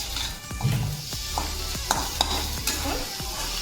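Onions and spices for a Bengali drumstick curry with mustard paste are sautéed in a pan, a steady close sizzle broken by several sharp scrapes and clacks of a spoon stirring against the metal, with no talking.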